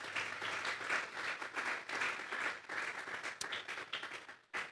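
A church congregation applauds, a burst of many hands clapping that swells and dips in waves, fairly close and lively, breaking off briefly near the end before a final short flurry.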